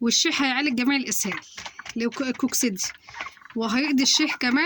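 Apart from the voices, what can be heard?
No distinct noise like a dog, phone or traffic.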